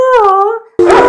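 A voice imitates a dog howl with a loud, wavering, drawn-out cry that fades, followed by a burst of noisy sound.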